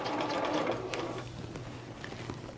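A sewing machine runs steadily as it gathers fabric around a skirt, a continuous close mechanical whirr that lightens and stutters toward the end.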